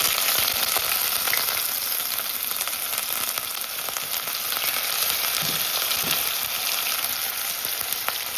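Seasoning and scallion frying in a pot for ackee and salt fish, a steady close sizzle with faint stirring, continuous and fairly quiet with no talking.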